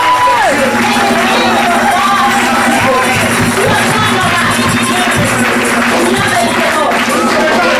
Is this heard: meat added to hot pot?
no